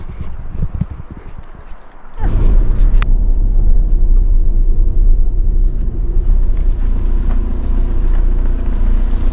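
A motorcycle engine revs up loudly as a boy learns to ride with clutch and gears, a steady close rumble building after a brief quieter stretch and holding strong to the end.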